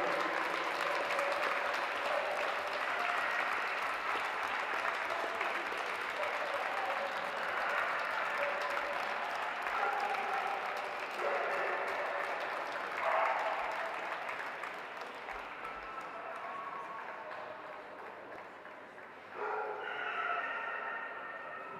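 An audience applauds steadily at a dog show while dogs bark and yip in short bursts through the clapping. The applause is continuous and slowly fades toward the end.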